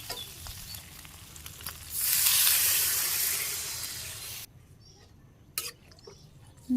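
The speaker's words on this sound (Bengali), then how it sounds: "আমি একটু জল দিয়ে দিই" Water poured into a pan of meat curry sets off a loud, rushing sizzle and hiss that builds suddenly, holds for a couple of seconds, then cuts to a quiet bubbling simmer with a few faint knocks.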